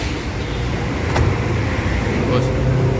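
A large bus engine rumbles close by as it pulls away, with traffic noise around and brief voices in the background.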